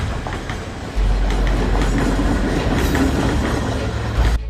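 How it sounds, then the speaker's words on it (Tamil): Freight train running along a railway between a port and Seeduwa in Sri Lanka, a loud close rumble with rhythmic wheel clatter and no talking. "சீன துறைமுகத்திலிருந்து சீதுவ வரையில் சரக்கு ரயில் இன்று சேவையில் ஈடுபடுத்தப்பட்டது."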